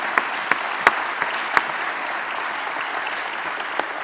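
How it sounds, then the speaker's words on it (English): An audience applauds at an airport industry talk, a steady crowd clapping with a few sharper individual claps standing out near the start, then settling into an even patter. "one more round of applause for Bill and Mike, if you will."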